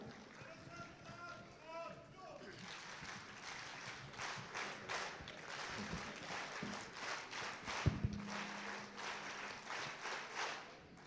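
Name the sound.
audience applause welcoming a speaker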